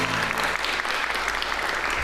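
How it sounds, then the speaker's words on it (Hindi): A short burst of audience clapping on a talk show, dense and steady for about two seconds, with no clear talk over it. "ये इस पे तालियां बनती थी"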